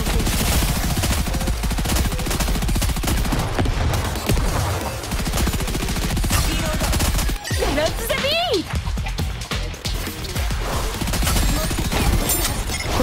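A volley of gunfire erupts in the mobile shooter game NIKKE: dense, rapid automatic bursts pour out continuously, loud and close, with a short gap midway and character voices heard over the shooting.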